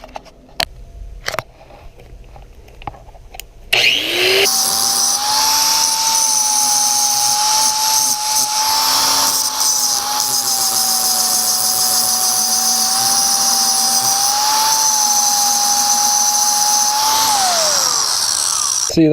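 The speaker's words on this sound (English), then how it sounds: "New grinder, tested, approved." A new grinder works on a Bultaco Pursang motorcycle fender mount, spinning up after a few light clicks into a loud, steady high whine that holds for about fourteen seconds before winding down.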